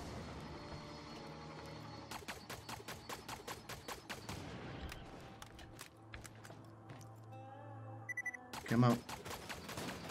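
Bursts of gunfire from the first-person shooter Borderlands 2, with rapid repeated shots through the middle and a louder blast near the end, under game music and a brief spoken line.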